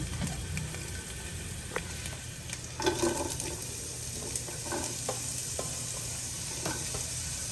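Onions and garlic fry in a kadai with a steady, continuous sizzle, while a wooden spatula stirs and scrapes in scattered soft knocks throughout.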